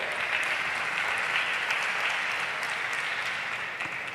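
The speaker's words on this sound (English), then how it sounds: "can we please have a big round of applause?" Steady applause from a large audience at a JITO business event in Mumbai, a dense even wash of clapping that holds for about four seconds without any voices.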